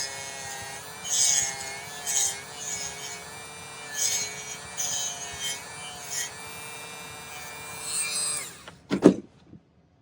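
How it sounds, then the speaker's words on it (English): A white silicone abrasive wheel on a rotary tool polishes a silver bezel, a steady high whine with faint intermittent rubbing bursts, close and quiet, ending with a brief clatter as the tool stops. "This is just a white silicone abrasive wheel."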